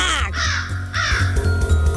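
A crow caws in two or three loud, harsh drawn-out calls close by, layered over a low rumbling background in a dramatic scene.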